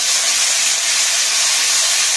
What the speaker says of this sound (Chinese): 嗱咁啊炒炒佢得啦。 咁啊兜兜佢就得啦